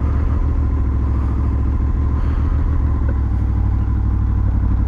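A 2006 Honda VFR 800 VTEC motorcycle engine chugs at low revs through a slow U-turn, a close, loud, even throb with a light mechanical clatter, and no voices.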